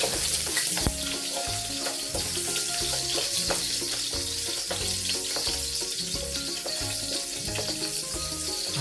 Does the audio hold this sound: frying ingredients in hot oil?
yes